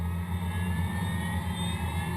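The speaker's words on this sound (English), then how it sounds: "when you open up the power, it takes a little time for the engines to accelerate" Four engines of an Avro Vulcan bomber roar steadily with a whining jet tone that climbs slowly as they accelerate, loud and continuous throughout.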